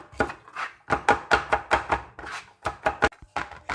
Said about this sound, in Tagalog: Cut lang kayo ng garlic, yung maliliit na pagkakat.